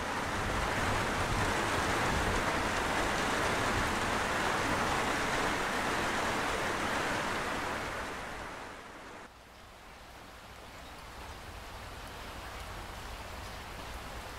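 Steady heavy rain in a cartoon storm, a loud dense hiss of downpour that drops and thins out partway through.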